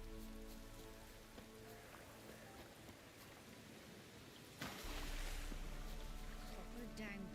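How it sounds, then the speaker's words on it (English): Heavy rain pours down in The Witcher 3, a steady wash of downpour under game music and ambience that swells louder partway through, with a voice talking over it. "Proper downpour this is."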